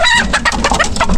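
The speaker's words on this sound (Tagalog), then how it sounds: "doon sa vlog natin na paggawa ni Nono ng kulungan ng manok." Chickens cluck and squawk in a coop close by, a quick series of loud, overlapping clucks filling the whole short stretch, with no one talking.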